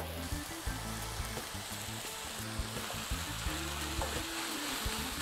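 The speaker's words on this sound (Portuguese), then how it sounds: "E vou continuar refogando até que o alho poró também dê uma murchada bem boa" Leek and brown and white Paris mushrooms sauté in a pan, giving a steady, close sizzle with scattered low clicks and thuds of the pan and utensil, and no talking.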